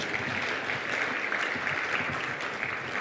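A large audience at a Merck Foundation Africa Asia Luminary conference applauds for Dr. Rasha Kelej, a thick continuous roar of clapping with individual claps rising and falling, sustained throughout and fairly loud.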